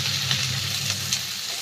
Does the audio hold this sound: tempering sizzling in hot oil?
yes